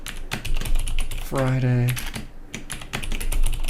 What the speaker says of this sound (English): You got some typing to do